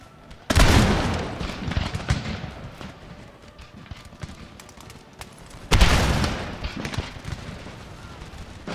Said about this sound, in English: I'm doing firing by rank.